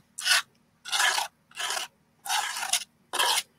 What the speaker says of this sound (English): I'm sorry about the scraping, but I don't know any other way of putting it